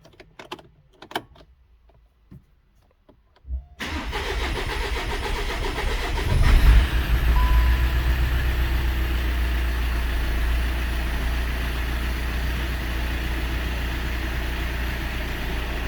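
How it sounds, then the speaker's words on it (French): Volkswagen Golf 7 2.0 TDI diesel cranking and firing up after air was bled from the fuel system, a few soft clicks and keyboard-like taps first, then the engine catching loudly and settling into a steady close idle. "on va démarrer la voiture"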